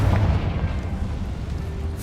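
A Confringo blasting spell goes off in a Harry Potter video game, a loud rumbling boom that fills the whole two seconds at a steady level with no talk over it.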